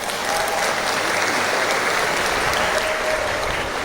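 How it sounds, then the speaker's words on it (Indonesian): An audience at a speech honoring NU, the Indonesian Islamic organization Nahdlatul Ulama, breaks into dense, sustained applause, loud and continuous throughout with no voices on top. "Tepuk tangan untuk NU."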